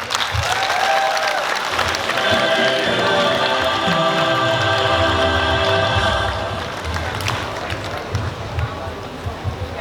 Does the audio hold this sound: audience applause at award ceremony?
yes